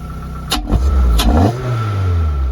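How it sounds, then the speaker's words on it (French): A Lotus Elise 111R engine nearby with a rushing, whooshing air intake sound as the revs rise briefly, loud and without voices. "Le bruit de l'admission, on l'entend vraiment."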